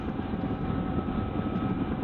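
Helicopter in the Immersive Vehicles vehicle mod for a video game, a steady, droning engine and rotor rumble held at constant loudness throughout, with no talk over it.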